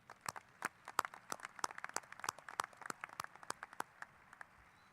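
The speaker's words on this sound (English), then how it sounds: "So can we give a round of applause to those folks," Audience applause at a salute-to-veterans ceremony, a scattered crowd of hands clapping at a moderate distance, fairly quiet and steady throughout with no talk over it.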